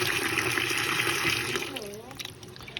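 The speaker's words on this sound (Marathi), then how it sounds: "पाणी ठेव जास्त भरूया नको आता वरती येईल" Water pours and gushes into a container holding freshly caught crabs and live fish, a steady splashing flow that thins out toward the end.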